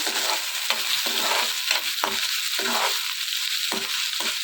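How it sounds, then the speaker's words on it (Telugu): Red chilies, chana dal, cumin, curry leaves, onions and garlic fry in hot oil with a steady close sizzle, and short scraping stirs of a spatula repeat about every half second. "ఎండుమిర్చి పచ్చెనపప్పు జీలకర్ర కరివేపాకు ఆనియన్స్ అలాగే వెల్లుల్లిపాయలు వేసుకుని ఇవన్నీ కూడా బాగా వేయించుకోవాలి ఇవన్నీ కూడా ఇలా ఫ్రై చేసుకోవాలి"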